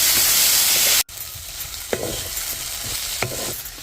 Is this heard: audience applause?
no